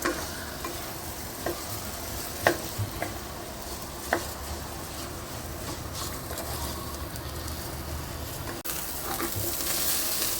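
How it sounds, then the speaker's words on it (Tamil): Soaked rice for coconut rice pulav sautés in a pan with a continuous soft sizzle, broken by occasional scraping and clinking stirs of a spoon, close and fairly quiet. "இப்போது அரிசி நல்லா வதக்கியாச்சு"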